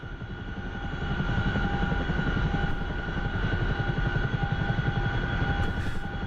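A Chinook helicopter cruises in the DCS flight simulator game, its rotors producing a constant, dense, pulsing thump over a steady engine whine, with no voices.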